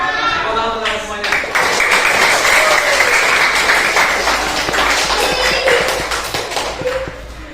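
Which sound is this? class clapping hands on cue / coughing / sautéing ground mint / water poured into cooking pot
class clapping hands on cue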